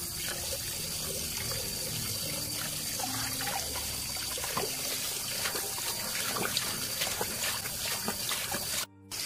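Outdoor tap water runs steadily for hand washing at a vegetable harvest, a loud continuous splashing and trickling that stops abruptly near the end.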